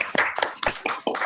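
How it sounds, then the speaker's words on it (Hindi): A few people clap in quick separate bursts to welcome someone at an online women's business forum, the claps sharp and close but scattered rather than in a steady rhythm. "एक बार जोरदार सब लोग अपने वीडियो ऑडियो ऑन करके जोरदार तालियों के साथ वेलकम कर सकते हैं।"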